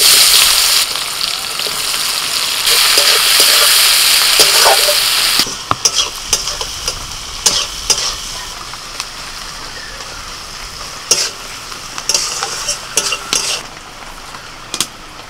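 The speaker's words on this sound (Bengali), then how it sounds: "পেঁয়াজটা ভালো করে ভাজা ভাজা করে নিয়ে দিয়ে দিচ্ছি আদা রসুন বাটা।" Chopped onion with bay leaf, dried chilli and whole cumin fries in hot oil in a pan, a loud continuous sizzle that later settles into a softer hiss punctuated by sharp scraping stirs of a spatula.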